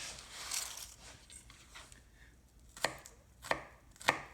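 Tomatillos and other salsa vegetables are chopped on a board, soft scraping at first, then three sharp, distinct knife strikes spaced about a second apart.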